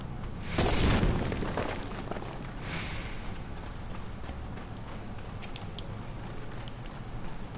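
A bomb blast in a Final Fantasy XIV dungeon, the Copperbell Mines: one loud, deep boom that rolls off into a lingering rumble, followed by a fainter second burst and steady game ambience.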